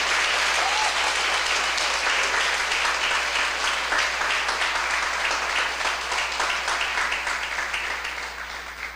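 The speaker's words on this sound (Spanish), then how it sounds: "Eso se merece un aplauso más fuerte." A church congregation bursts into sustained, loud applause, a dense wash of clapping that holds steady for several seconds before beginning to fade toward the end.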